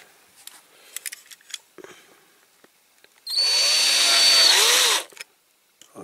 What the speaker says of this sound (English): So we'll get on and drill those out.